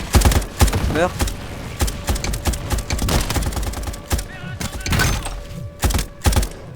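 Rapid bursts of machine gun fire crackle in a Modern Warfare campaign mission on Commando difficulty, loud and repeated in uneven volleys, with heavy thumps and an excited player talking over the shooting.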